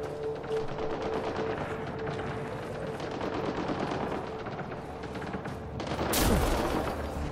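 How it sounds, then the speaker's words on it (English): Sustained rapid gunfire from a firefight in the video game Mass Effect Andromeda, dense overlapping bursts rattling steadily throughout and swelling into a louder blast near the end, with no talking. "Well, who's shooting at what?"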